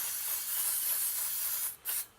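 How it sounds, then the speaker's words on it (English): Aerosol cleaner sprayed into the ports of a Ski-Doo Alpine snowmobile carburetor: a close, loud continuous hiss, then a short pause and a second quick burst, with no talk. "So I'm just going to give this a spray."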